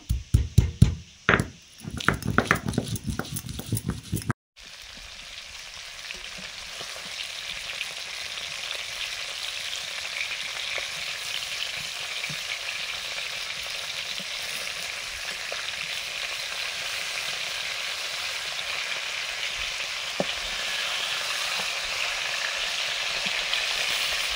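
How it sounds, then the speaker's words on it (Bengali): Fish fries in oil, first with a few sharp knocks and clatters, then a long, even sizzle that stays close and steady, with no voices. "মাছ ভাজা হয়ে গেছে"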